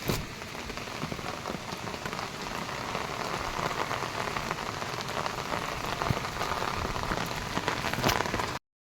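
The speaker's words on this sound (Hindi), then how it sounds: "और यहाँ देखो बारिश तो लगी हुई है।" Steady rain falling and pattering on a surface, a dense continuous hiss with scattered drips throughout, no voices.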